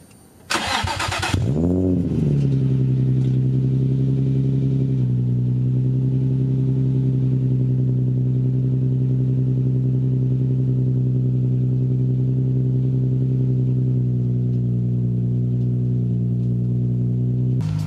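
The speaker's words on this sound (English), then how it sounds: "I'll give you guys just a nice quick little cold start." An Infiniti G35 cold start: a short starter crank catches into a loud rev flare, then drops to a high, steady fast idle that stays close and constant for the rest of the clip, with no talking.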